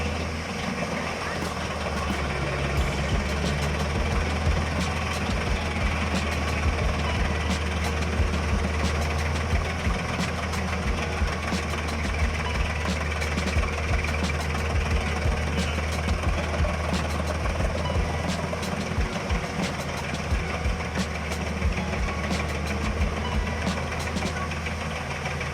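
A 2019 HEM-821 Cobra hybrid wood chipper runs steadily while chipping large logs into sawdust, a loud continuous low engine drone with dense grinding and crackling throughout and no voices.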